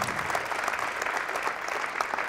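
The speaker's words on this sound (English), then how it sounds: "It's amazing that people clap for that" Thick, continuous applause from a comedy club audience fills the room, an even roar of many hands clapping at once without pause.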